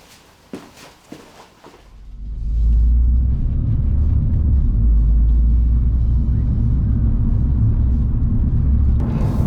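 A Renault Clio 182 pulls away and cruises, its engine and road noise rising into a steady, loud in-cabin rumble that holds for several seconds after a few quiet clicks at the start.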